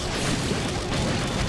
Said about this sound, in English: That explosion deals a lot of damage.